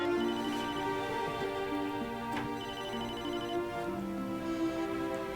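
A telephone ring tone repeats steadily as a call is placed, with musical chime-like tones over a soft background bed and no talking.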